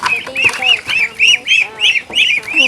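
Repeated harsh, nasal quacking from ducks or other fowl, fairly loud and close, coming in steady bursts roughly every half second.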